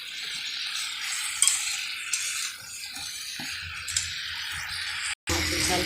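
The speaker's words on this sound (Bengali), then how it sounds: "একটু নেড়ে নেবো ভালো করে।" Cauliflower, potato and eggplant sizzle together in a frying pan while being stirred, a steady close frying hiss with occasional utensil scrapes and a brief dropout near the end.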